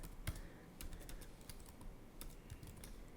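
Quiet, irregular clicks of keys on a computer keyboard as a command is typed, with short bursts of keystrokes and brief pauses; no voice.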